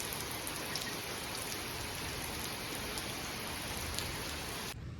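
Heavy, steady rain pours down without a break, a dense even wash of drops on surfaces that cuts off abruptly at the very end.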